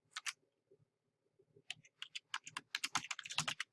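Computer keyboard typing: a quiet start with a few isolated keystrokes, then a quickening burst of crisp, close clicks in irregular rhythm, with no voice over them.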